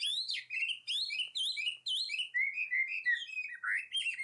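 Hwamei, the painted-eyebrow songbird, sings a rich, varied run of loud whistled phrases close by, rising and falling in quick repeated bursts with no pauses over several seconds.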